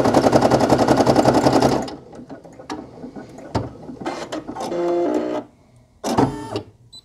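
A Brother PE800 embroidery machine stitches a patch, starting with a loud, rapid rhythmic needle chatter that stops abruptly, followed by scattered clicks, a brief whirring carriage movement and a final short mechanical burst.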